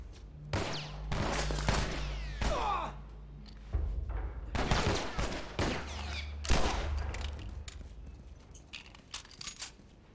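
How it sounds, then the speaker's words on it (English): Gunfire in The Last of Us Part 1 video game: repeated sharp shots and bursts of rapid fire, some close and loud, others more distant, spread across the stretch with brief gaps. "They're still shooting."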